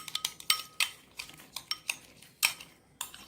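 Utensils clink and scrape against a dish while a salad dressing is mixed, giving a quick, irregular series of close metallic taps with soft stirring between them.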